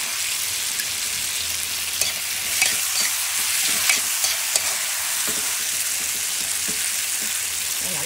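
Okra stir-fried in a hot pan with seasoning: a steady bright sizzle runs throughout, with occasional scrapes and clinks of a utensil stirring, loud and close, no voices.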